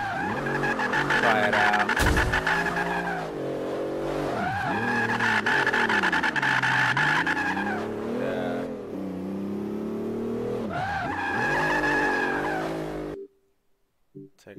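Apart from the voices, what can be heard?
Bentley Continental car skidding while attempting to drift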